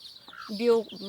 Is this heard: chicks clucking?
yes